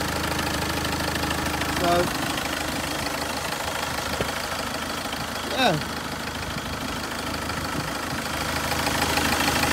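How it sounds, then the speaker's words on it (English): Peugeot 206 with a 2.0 HDi diesel engine idling steadily with a constant clattering rumble, someone speaking briefly over it. "now you can see how good that engine's running"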